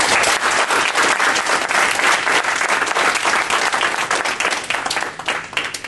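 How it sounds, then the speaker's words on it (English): Loud, dense audience applause at a chartering ceremony, many hands clapping continuously and close by for several seconds, tapering slightly near the end. "shall we give a round of applause to all the people?"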